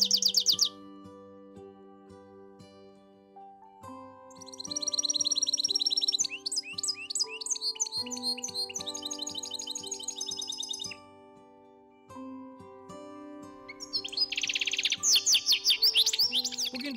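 A goldfinch sings in clear bursts of rapid, twittering trills and tinkling chirps, close and bright, interleaved with sustained tonal notes and short pauses between phrases.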